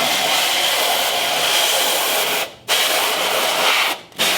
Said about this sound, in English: We're going to use our compressed air.